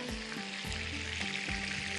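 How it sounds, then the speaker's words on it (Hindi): Fish pieces frying in oil in a home kitchen, a steady close sizzle with faint low thumps as the pieces are turned, no talk. "अच्छा, ये मछली है, मछली के पीसेस को करते हैं फ्राई।"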